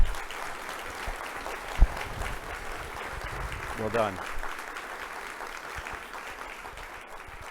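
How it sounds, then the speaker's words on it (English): Audience applause rolls steadily at a strategic plan launch event, a continuous mid-level clatter of many hands, with a brief spoken remark and some thumps partway through. "How about a huge round of applause for the two of them?"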